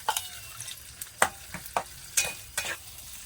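Chicken with masala is sautéed on a village wood-fired clay stove in a rustic dry chicken dish: a soft sizzle broken by a brisk, uneven series of sharp scraping stirs.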